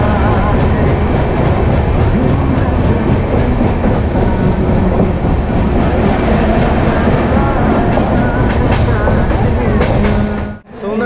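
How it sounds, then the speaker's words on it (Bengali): A Howrah–Secunderabad rake at a station while a locomotive is coupled to it: loud, continuous rumbling and clattering rail noise with rhythmic clicks, ending in a brief drop. "এখানে লোকোমোটিভ জোড়ার কাজ চলছে।"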